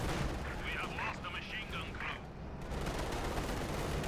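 Rapid machine gun bursts in Company of Heroes 2 during a multiplayer match between German OKW and Soviet forces, crackling steadily among battlefield noise, with a commentator talking over the fire.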